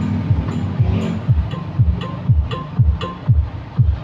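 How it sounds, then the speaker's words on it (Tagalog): Bass-heavy battle mode music blasting through a car audio system with four bass speakers, a deep thumping beat with a steady rhythmic pulse that fills the space loudly and plays without talk. "Ngayon ito pang battle mode na music"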